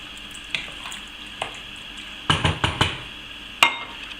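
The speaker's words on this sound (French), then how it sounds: "Donc, je mélange à nouveau" A spoon stirs daube provençale beef stew sauce in a pot, with soft liquid sloshes and a handful of sharper scrapes and clinks against the pot, close and alone.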